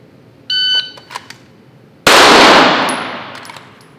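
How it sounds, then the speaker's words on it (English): A shot timer gives a short electronic beep, followed about a second later by a single loud pistol shot at a head box target, with a long echoing decay and no talking. "One shot to the head box, stand by."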